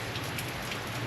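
Steady rain pours down close by, a dense, even hiss of drops on a hard surface with no pauses.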